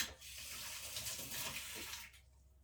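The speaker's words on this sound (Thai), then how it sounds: "ล้างช้อนก่อนใส่ใหม่" A spoon rinsed under running tap water in a kitchen while cooking Thai black bean sago dessert, a close, steady splashing rush lasting about two seconds before it stops.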